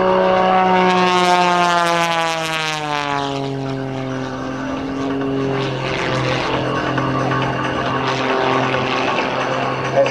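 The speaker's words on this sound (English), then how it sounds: "The aircraft engine, his propeller is turning to the right." A propeller aerobatic airplane engine roars loudly at an airshow, its pitch sweeping downward as it passes, then settling into a steady drone with changing intensity.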